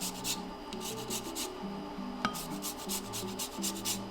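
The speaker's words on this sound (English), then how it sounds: "I'm going to grate the zest of, I would say probably about half a lemon into it." Lemon zest grated over a bowl of mayo: a quiet series of quick rasping strokes, evenly repeated back and forth at close range, with a faint tonal hum and a single small tap midway, no talk.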